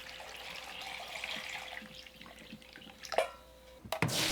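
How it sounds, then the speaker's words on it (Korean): Cubed potatoes being rinsed in a kitchen sink to wash off starch, a soft steady trickle of water with light splashes, then a few sharper clatters and a brief burst of running water near the end. "5분 후 물에 헹궈 전분을 씻어냅니다"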